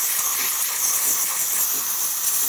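Steam wand of a Delonghi Magnifica espresso machine after a tune-up and descale, hissing loudly and steadily with strong pressure, a continuous bright rush close to the microphone.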